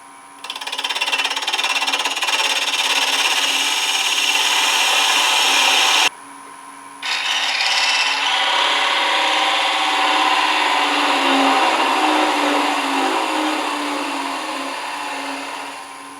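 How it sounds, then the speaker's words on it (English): A wood lathe spins a small piece of red heart wood between centers while a tool cuts a 3/8 inch tenon, a loud, continuous whirring scrape with a brief drop midway before the cutting resumes and slowly eases. "Got to cut a 3/8 inch tenon on one end."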